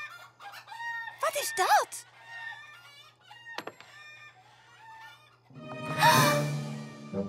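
Cartoon chickens cluck and squawk in bursts, with a crow-like call near the end. The birds are close and clear, and a short spoken line comes through between them.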